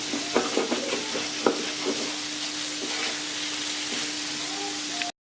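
Vegetables frying in olive oil in a pan, a steady sizzle with scraping and clacking stir strokes near the start, then a quieter hiss before a sudden cut to silence.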